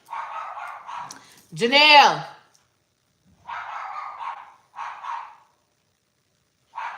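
A dog barks in a few short bursts with a brief yelp between them, close by, while people talk.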